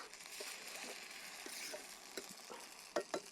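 Mint leaves sautéing in a pan for chutney make a quiet, steady sizzle, with a few faint spatula taps that grow sharper toward the end.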